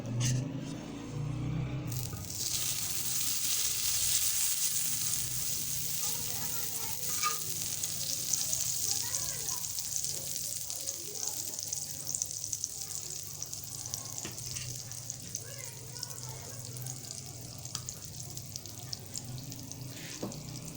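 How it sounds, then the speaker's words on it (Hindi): Butter melts and sizzles on a hot tawa griddle, a steady close hiss with faint scraping and clinks running throughout after a brief clatter at the start. "हमने तवा गरम कर लिया है। अब हम इसके ऊपर पहले मक्खन डालेंगे।"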